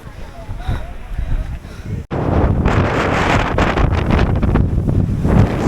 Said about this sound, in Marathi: तुम्ही बघू शकता खूपच हवा सुटली आहे.